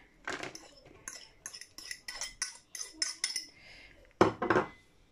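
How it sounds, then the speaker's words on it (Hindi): Tuna fish is spooned into a bowl, giving a series of close metal-on-ceramic scrapes and clinks in an uneven rhythm, with a sharper cluster of knocks near the end. "बोल के अंदर सबसे पहले मैं डालूँगी ट्यूना फिश"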